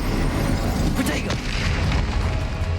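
A Confringo explosion spell is cast in the Hogwarts Legacy video game, a dense booming burst over a constant roar of game effects, loud and continuous for the whole stretch.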